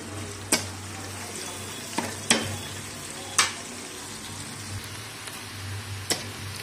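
Onions frying until browned: a quiet, steady sizzle under a low hum, broken by a few sharp clinks of stirring spaced a second or so apart.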